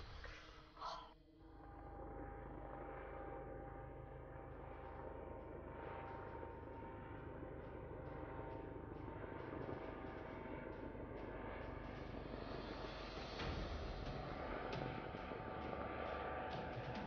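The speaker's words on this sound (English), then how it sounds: "Over the plane, I can hear it again. Flying over" A steady, droning airplane engine in a video game roars continuously as it flies over, loud and close, with a brief breathy burst near the start.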